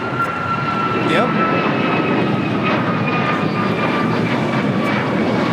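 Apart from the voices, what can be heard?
United Airlines Boeing 737 MAX 9 jet taking off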